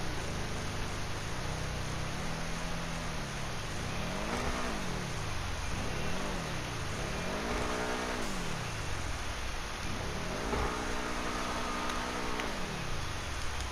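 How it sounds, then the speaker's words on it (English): A Schlagen GT sports car engine in GTA Online revs repeatedly, pitch sweeping up and down in rapid bursts, with a steady hiss in the background. "But listen to the sound of that engine,"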